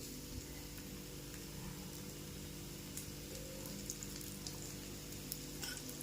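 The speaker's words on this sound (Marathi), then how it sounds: "त्यावर मी थोडंसं तेल सोडते म्हणजे खालची बाजू आहे ती देखील आपली चांगली फ्राय होईल" A soft, continuous crackle of rava appe frying in oil in an appe pan, faint and even, with a low steady hum underneath and no talking.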